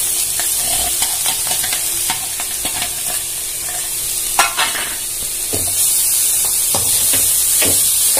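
Grated carrot and onions stir-fry in a pan, a steady loud sizzle and hiss with repeated scraping stirs of a spoon against the metal, close up and alone.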